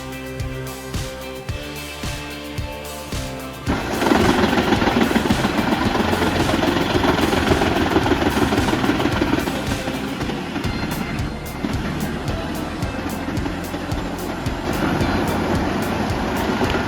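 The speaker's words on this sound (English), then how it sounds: "Equipped with a pressure washer engine and a Leonardi Blue Shark wheel" A homemade stump grinder powered by a pressure washer engine and fitted with a Leonardi Blue Shark wheel runs loud and close, a steady engine drone that swells into heavy continuous grinding roar after a few seconds.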